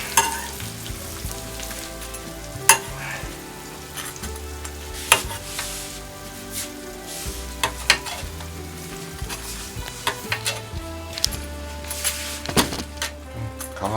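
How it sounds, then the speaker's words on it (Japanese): Roast chicken, pulled from the oven after about two hours, sizzles and spatters steadily as its hot drippings are spooned back over the crisp skin, with scattered clinks and taps of the spoon and pan close by. "油の汁を上にかけます。"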